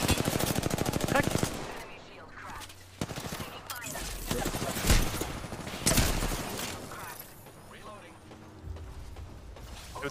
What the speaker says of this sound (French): Le team qui me tire dessus.